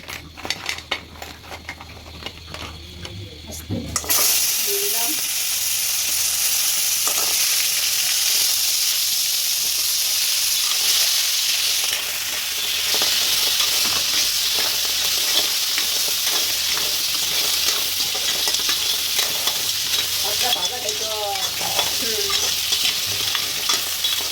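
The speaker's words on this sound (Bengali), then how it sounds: "আর একটু হলুদ দিয়ে একটু ভাজবো" Crab pieces with turmeric hit hot oil and sizzle loudly and continuously, with occasional stirring and scraping against the pan.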